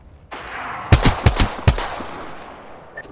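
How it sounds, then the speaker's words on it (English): Gunfire in the video game Apex Legends: three or four sharp loud shots in quick succession, with a short follow-up burst, ringing out over a steady background hum before fading. "Getting shot at"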